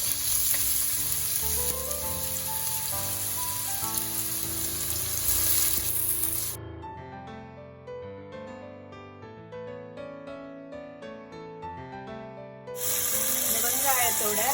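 Sliced onions with salt fry in a pan for veg puttu kothu, giving a steady, close sizzle with occasional stirring, continuous under background music.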